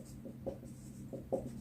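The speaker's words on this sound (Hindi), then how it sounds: "ये स्टेप ये लाइन में यहाँ पे लिख देती हूँ" Chalk or marker strokes on a board during a maths lesson on limits at infinity, two short scratchy bursts about a second apart, quiet against a low steady hum.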